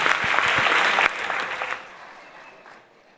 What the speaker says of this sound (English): How about a big round of applause for both of those folks and the wonderful Motor City Casino.